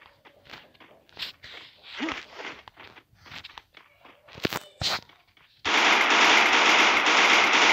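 UMP and M14 gunfire in the mobile shooter Free Fire: scattered clicks and movement sounds, then sharp shots, followed by a loud, sustained stretch of rapid fire.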